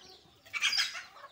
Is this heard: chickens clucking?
yes